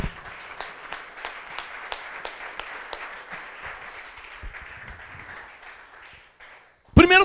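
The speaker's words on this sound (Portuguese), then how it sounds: "Uma salva de palmas ao Senhor que nos faz entender isso." A church congregation bursts into applause for about seven seconds, a dense steady clapping with a few sharper slaps that gradually thins and fades, followed by a brief loud burst at the end.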